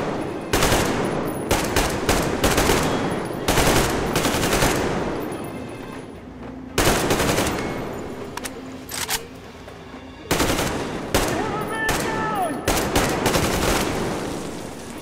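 Bursts of loud automatic gunfire erupt in Metro Exodus, several sharp rattling volleys separated by short pauses, close and dominant.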